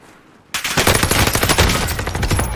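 Rapid automatic bursts from a Cooper Carbine in Warzone Pacific, starting abruptly after a quiet moment and rattling on loud and close.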